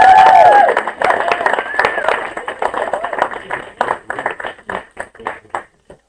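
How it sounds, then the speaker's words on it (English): Enthusiastic applause from a conference audience, dense clapping mixed with some cheering that starts loud and gradually thins out into scattered claps over several seconds. "give one more very energetic, very loud round of applause for everybody who came up and presented"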